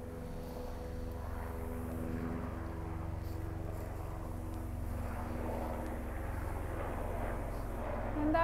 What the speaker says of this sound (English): that whirring sound helps to dislodge and release all traces of stress and anxiety